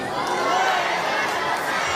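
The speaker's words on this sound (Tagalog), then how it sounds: "Palakpak na may sigawan." A wedding crowd in the Philippines claps and shouts, a dense, steady wash of cheering voices and applause that fills the whole moment without a break.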